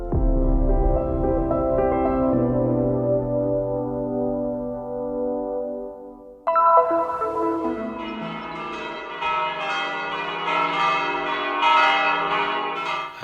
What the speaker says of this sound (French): À Bethléem, pendant que les cloches de l'église de la Nativité annoncent Pâques selon le calendrier occidental